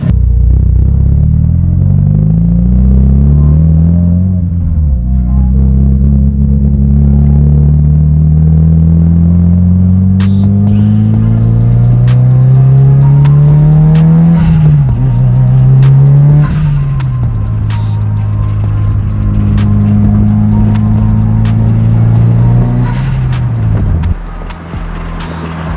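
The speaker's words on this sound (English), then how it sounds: "I'm gonna go ahead and drive to the gas station" A Mitsubishi Evo 8 drives off after a fuel pump housing replacement, its engine loud and close, revving through rising and falling gears with steady road rumble and no speech.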